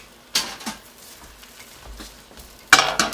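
A spatula scrapes and clatters in a new wok, with two loud bursts of stirring, one near the start and one near the end, and a faint sizzle between them.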